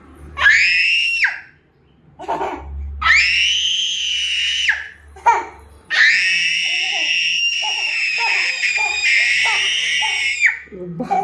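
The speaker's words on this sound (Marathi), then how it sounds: "अगं कशाला ओरडतीस?" A young girl screams in long, piercing, high-pitched bursts at home during a squabble between siblings, very close and loud, with short gaps and a few brief cries in between.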